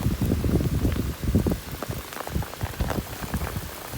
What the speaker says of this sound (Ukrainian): Давно такого дощу не було.